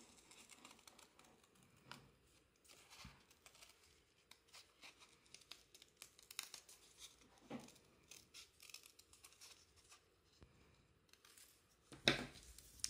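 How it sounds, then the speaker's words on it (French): Scissors cut vellum paper while a bookmark and card are being made, heard as quiet, intermittent snips and rustles that get close and sharp near the end, with no talk. "je vais découper un peu plus gentiment"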